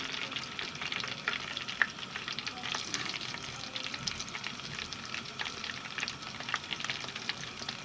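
Chicken cheese bread rolls frying in about two cups of hot oil in a pan, a steady close crackling sizzle with scattered sharp pops throughout.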